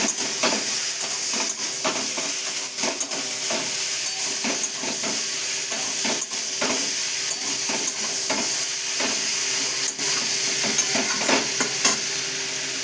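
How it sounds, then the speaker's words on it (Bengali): Salt, turmeric, coriander powder and tomato fry over lowered heat for a shrimp and Malabar spinach curry, a loud, continuous close sizzle and hiss broken by repeated scraping stirs. "আঁচটা কমিয়ে একটু ভাজা ভাজা করে নেব।"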